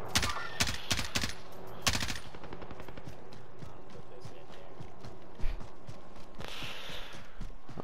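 Gunfire in the Call of Duty Warzone video game: rapid bursts of sharp shots in quick clusters over steady background game noise, fairly close and loud.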